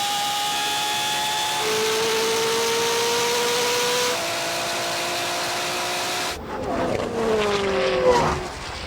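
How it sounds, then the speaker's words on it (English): A Koenigsegg and a BMW racing, a steady loud engine drone with rising pitch through gear changes, then a sudden shift into harsher, wavering revving and tire noise near the end. "Koenigsegg is catching the BMW."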